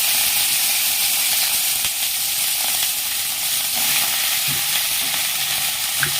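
Freshly cut eggplant fries in hot oil with garlic in a pan, a loud continuous sizzle and hiss with occasional stirring scrapes throughout.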